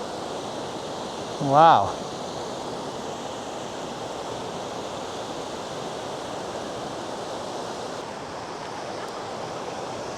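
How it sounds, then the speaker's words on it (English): At Sentinel Geyser, a Yellowstone-area hot spring, water hisses and churns in a steady broad wash of noise, with a brief exclamation from a voice early on. "That right there, guys, is Sentinel Geyser."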